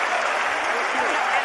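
Audience applause in a live Chhattisgarh radio show setting, a loud, dense, steady clatter of many hands continuing throughout the short burst, with a voice speaking beneath it.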